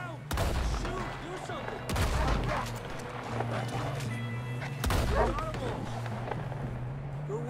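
Repeated gunfire in Red Dead Redemption 2, with loud bursts and rapid volleys recurring across the clip over game ambience, while a player talks at intervals.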